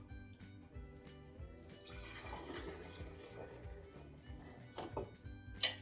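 Turkey broth poured into a small Pyrex jar in a home kitchen: a quiet liquid splash begins partway through and runs steadily to the end, faint beneath a low, steady background hum.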